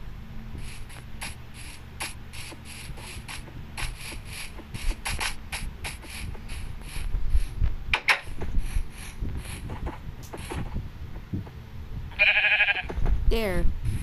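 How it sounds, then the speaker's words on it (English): A Minecraft sheep bleats again and again in short, evenly spaced calls while a person talks over the game, with a burst of brighter blocky game noise near the end. "Oh, there's another sheep."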